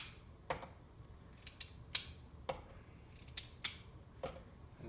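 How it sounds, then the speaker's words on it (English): A raw carrot snapped apart by hand in a kitchen, several crisp, sharp cracks spaced about half a second apart, close and clear over quiet background. "just break off this carrot"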